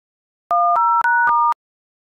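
A phone is dialed before a call: four crisp two-tone keypad beeps in quick even succession, loud and clean against silence.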